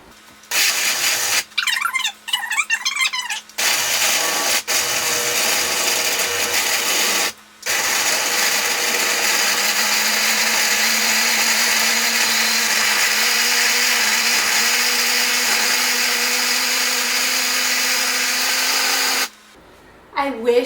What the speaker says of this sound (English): Now we just put the lid on very carefully and we blend.